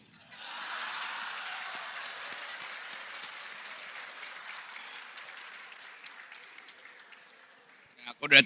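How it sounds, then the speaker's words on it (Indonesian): Steady audience applause fills a hall during a public talk on education, a dense, even wash of clapping that holds for several seconds and slowly thins out, ending with a brief louder bump. "Udah ada tepuk tangan, oke terima kasih."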